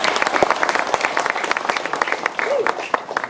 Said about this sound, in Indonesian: Tepuk tangan untuk Kampung Katigamulyo